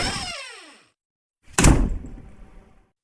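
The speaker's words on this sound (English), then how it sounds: "the hallway door at the far end slammed open" A hallway door is yanked open with a creaking, sliding sweep that fades into silence, followed by a loud, heavy slam with a thudding, echoing rumble that decays slowly.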